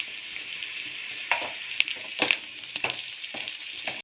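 Onions frying in a pan for a bonda soup: a steady, close sizzle runs throughout, broken by a few sharp scrapes and clicks from stirring.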